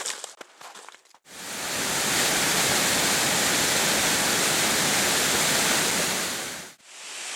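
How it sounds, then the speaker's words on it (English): A waterfall in the wilderness, reached on foot along a river, gives a steady, full, hissing roar that starts abruptly, holds for several seconds, then cuts off. "I think you can hear those falls."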